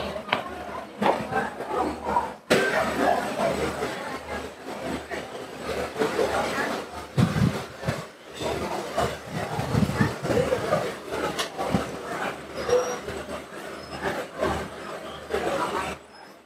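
Passenger train from Dimapur to Jorhat rolling along, a continuous rumble with rhythmic clacks and rattles from inside the coach, while someone talks over it.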